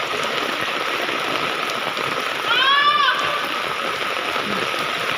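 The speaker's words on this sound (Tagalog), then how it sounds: "ayun hanggang ngayon, umuulan pa rin" Steady broadband hiss of rain falling, continuous and fairly loud throughout, with a brief chirping bird call partway through, during a flood that has entered a warehouse.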